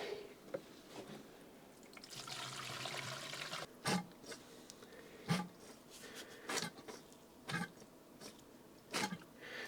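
Water gurgles into the radiator hose of a Mercedes-Benz S123 300TD as the cooling system is refilled. It comes as faint, irregular glugs and drips over a quiet hiss.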